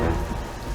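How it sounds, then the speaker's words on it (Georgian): Steady rain falling outdoors at a campsite, a dense, even wash of patter that fills the short stretch without a break. "წვიმაც იწყება."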